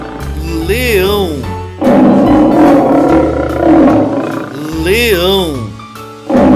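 A lion roars in a children's animal-sounds sequence: two loud, drawn-out roars rise and fall, separated by a long, rough, growling stretch, all close and full.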